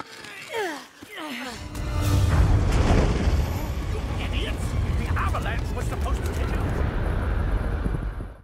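A mountain blown apart in an animated film sets off an avalanche: a sharp early blast gives way to a long, loud, continuous rumbling roar of tumbling snow, with smaller crashes scattered through it.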